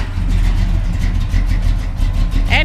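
A 1972 Chevrolet Cheyenne K20 pickup's engine runs steadily up close, a loud, continuous rumbling idle with a brief higher squeal at the end.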